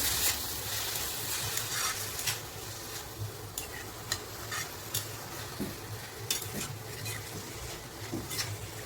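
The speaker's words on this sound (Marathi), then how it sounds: "हे छान एकत्र करून घेऊ" A spoon stirs and scrapes through a dill and moong lentil mixture frying in a pan, sizzling steadily under repeated, irregular clinks and scrapes against the metal, with no talk.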